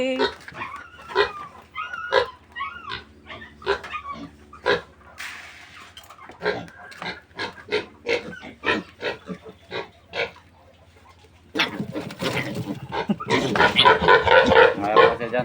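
Piglets of a newly farrowed sow in a pen during weaning, squealing and grunting in short bursts up close, with louder massed squeals near the end and people talking throughout.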